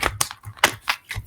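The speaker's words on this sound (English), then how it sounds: "Let's shuffle one more time." Small oracle cards are shuffled by hand, giving a series of quick papery riffles and taps, close and fairly soft.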